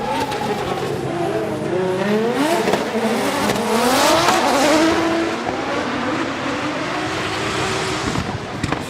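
A drift car at Okayama International Circuit initiating a drift during a competition run, its engine revving loud and close with rising and falling pitch sweeps and tire noise, sustained throughout with no talk.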